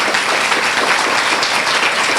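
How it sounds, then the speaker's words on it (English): A crowd at a chamber of commerce gathering on a fairground claps in a loud, dense and continuous burst that holds steady through the whole stretch. "So if you could just give her a round of applause"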